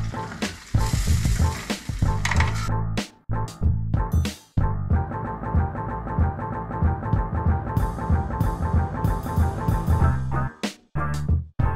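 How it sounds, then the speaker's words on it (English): Chicken wings deep-frying in hot oil give a loud, dense, crackling sizzle that runs almost continuously, with a few brief dips and bursts, and no voices. "After you do that, throw the wings in."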